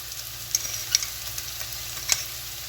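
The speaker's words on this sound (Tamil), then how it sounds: "உப்பு சேர்த்து நாங்கள் ஒரு ரெண்டு நிமிஷம் போல் வதக்கி கொள்வோம்" Snake gourd sautéing in a pan after salt is added gives a faint, steady sizzle with a few soft scraping clicks from stirring, with no voices.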